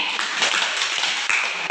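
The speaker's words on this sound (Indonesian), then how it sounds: "Tepuk tangan dulu untuk Liberty." A class of eighth-grade students claps for a classmate, a short burst of quick, close, uneven hand claps with a few sharper slaps standing out.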